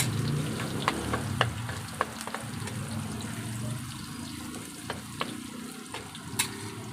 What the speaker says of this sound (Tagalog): Parulutuin muna natin bawang natin para matango-tango lang mga idol.